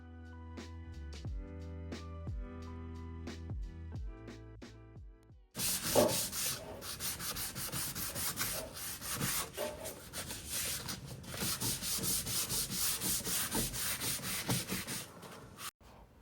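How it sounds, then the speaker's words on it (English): After a few seconds of soft plucked music, steady scratchy rubbing of a 180-grit sanding pad on the edges of an antique buffet's wooden drawer continues close up in uneven back-and-forth strokes. "I also took the opportunity to sand down the edges of the drawers and the outsides"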